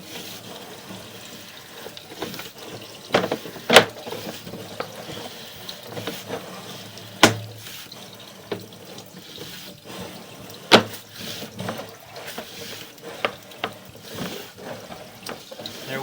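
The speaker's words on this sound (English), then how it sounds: "There's water running behind the camera." Water runs from a building leak behind the camera, a steady low wash with a few sharp knocks and splashes standing out, no talk.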